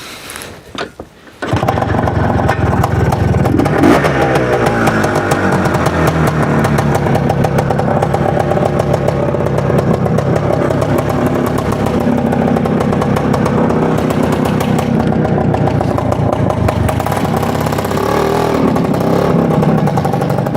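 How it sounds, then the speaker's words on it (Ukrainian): After a brief faint opening, an Izh Planeta Sport motorcycle engine starts up in winter and runs loud and close, a steady rough two-stroke drone that holds for nearly twenty seconds with no talk over it. "ось планета спорт і кооператив, в якому ми зараз прокатаємося на цій планеті спорт"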